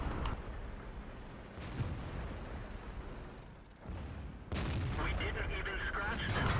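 In a World of Tanks game replay, booming shots and heavy impacts burst out over a rumbling battle background, loud and close, with a couple of sharp, sudden blasts.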